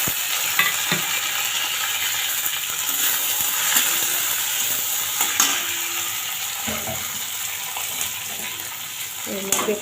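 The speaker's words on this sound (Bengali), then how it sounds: "এবার কয়েকটা চিংড়ি আর একটা মিডিয়াম সাইজের টমেটো" A pan of fried onion and garlic with a few shrimp and a medium tomato just added gives a steady, close sizzle and hiss, with scrapes and clinks from stirring breaking through now and then.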